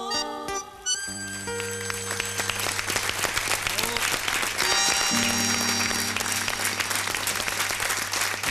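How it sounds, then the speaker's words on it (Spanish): Sustained audience applause in a TV studio after a folk singer's performance on an Argentine music program, dense and steady clapping over a held musical chord, loud and continuous throughout. "Y vamos a pedirle a todos que aplaudan."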